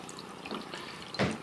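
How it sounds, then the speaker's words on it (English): Aquarium water gurgles through a Python water changer hose as the siphon runs, with a soft, steady trickle and a short louder splash of flow near the end. "It's got a pretty good siphoning going."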